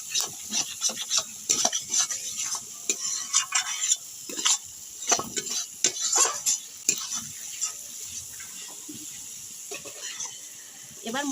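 Bengali-style masala paste for chicken kosha frying in a pan with a soft sizzle, while a utensil scrapes and stirs in irregular bursts, close and moderately loud.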